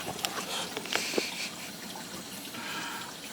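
A white Midea MDWMINIBL mini dishwasher fills with water, giving a continuous rushing, splashing flow heard close and steady, with a few small knocks early on.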